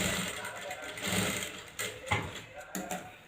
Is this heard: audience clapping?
no